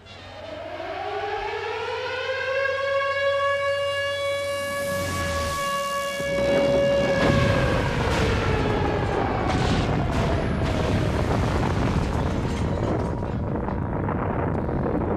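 An air raid siren wails with rising, sustained tones during a 1938 wartime bombing of Barcelona, then heavy booming explosions and rumbling blasts take over and continue loudly to the end.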